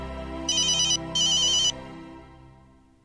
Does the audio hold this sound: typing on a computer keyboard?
no